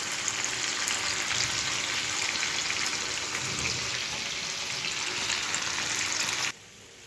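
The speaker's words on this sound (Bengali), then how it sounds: "এরপরে দিয়ে গ্যাসটাকে কমিয়ে দিয়ে এটাকে নাড়াচাড়া করে আরেকটু ঠিকঠাক করতে হবে।" Chicken noodles fry in a kadai on low gas with a constant hiss, and stirring adds soft scraping in the middle. The sizzle cuts off abruptly near the end. No one talks.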